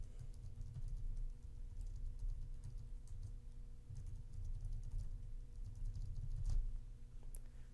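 Typing on a computer keyboard while filling in an online account form, soft rapid key taps that stay quiet and continuous over a low steady room hum.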